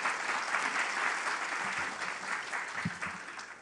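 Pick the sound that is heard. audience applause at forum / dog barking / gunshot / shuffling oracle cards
audience applause at forum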